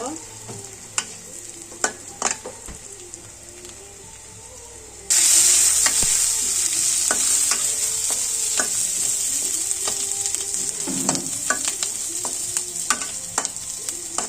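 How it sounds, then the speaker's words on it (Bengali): Chopped garlic, onion and green chili fry in oil for a chicken bhuna, stirred with clicking scrapes of a utensil; the sizzle jumps much louder midway and holds as a steady hiss. "রসুন আর পেঁয়াজ কুচি কুচি করে যেটা নিয়েছি সেটা আমরা ছেড়ে ভালোভাবে ভেজে নিচ্ছি"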